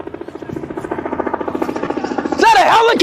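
Rapid rhythmic rotor thumping from a nearby helicopter pulses steadily and loudly, with an excited voice breaking in over it toward the end.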